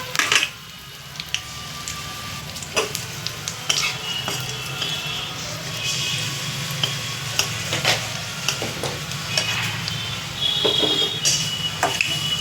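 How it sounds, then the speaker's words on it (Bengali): Bay leaf, dried red chili, cinnamon and cardamom sizzling in hot oil, a steady close frying hiss with scattered spoon clinks and scrapes against the pan throughout. "তেলটা গরম হয়ে গেছে, তেজপাতাটা দিয়ে দিলাম, গোটা লঙ্কা দিয়ে দিলাম, দারচিনি এলাচ দিয়ে দিলাম"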